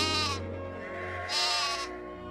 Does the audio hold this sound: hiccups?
no